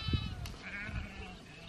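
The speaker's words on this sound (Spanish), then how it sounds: "Ahí están las borregas." Sheep bleat on a hillside, a couple of faint wavering calls from some distance over quiet outdoor background with a soft thump near the start.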